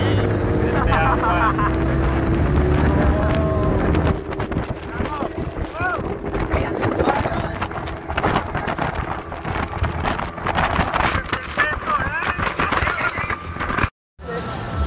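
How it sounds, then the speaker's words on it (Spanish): A motorboat engine drones loudly as the hull slaps across the sea near Cartagena, Colombia, with heavy wind buffeting the microphone throughout. "Arriba, embarcados en la lancha."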